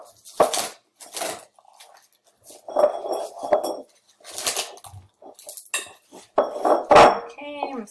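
Plastic wrap stretched tight and sealed over the rim of a glass is tapped, giving close, drum-like taps in short bursts, with a person talking between them.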